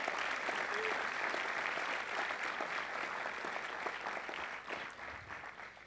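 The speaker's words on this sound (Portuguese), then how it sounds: "Aplauda o Senhor Jesus" A church congregation applauds in praise during a sermon, a steady wash of many hands clapping that holds for several seconds and then thins slightly toward the end.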